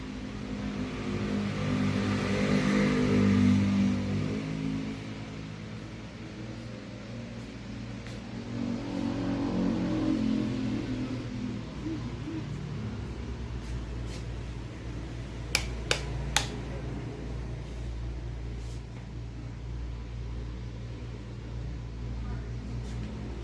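Steady traffic rumble from cars passing on the road right beside a condo-style house in the Philippines, a continuous low drone that swells around the start and middle, with a few brief sharp clicks near the end.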